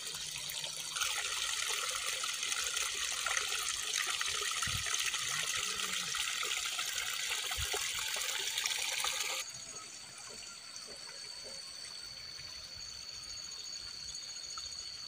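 Clear mountain water flowing in a village, a steady close rushing and splashing that drops to a softer trickle partway through, with no voices.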